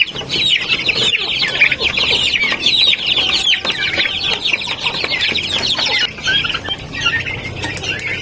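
Farm poultry, including turkeys, chicks and native chickens, cluck and cheep continuously in a dense, busy chorus, close and loud throughout with no talking.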